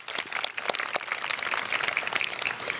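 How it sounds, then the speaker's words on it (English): Audience applause at a community reading of Frederick Douglass in Natick, Massachusetts: dense, close-sounding clapping from a crowd, steady and fairly loud for a few seconds, with no talking. "So a round of applause for Mass Humanities."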